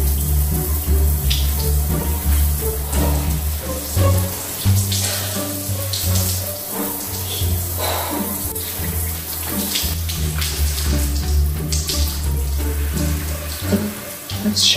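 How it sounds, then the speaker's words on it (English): A shower runs steadily before entry into a salt water float tank, a loud, continuous hiss of spraying water with splashing variations throughout, close by and with no speech. "Let's shower, Jim."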